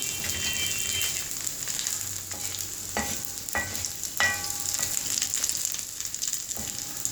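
Poha kebabs fry in hot oil with a loud, dense, continuous sizzle, close up, broken by a few sharp scraping or tapping knocks.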